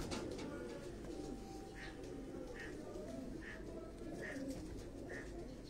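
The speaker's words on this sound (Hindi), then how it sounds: "ये एक दूसरा कबूतर मैं आपको दिखा रहा हूं" A pigeon coos repeatedly at a steady pace, five soft calls in a row over a constant low background rumble.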